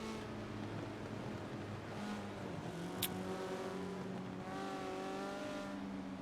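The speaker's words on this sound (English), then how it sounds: "And we are doing the pace lap here, led by Fat Attack" Race cars in the Forza video game hum along on a B-class pace lap at the Bernese Alps circuit, a steady layered engine drone with gentle pitch shifts and no speech.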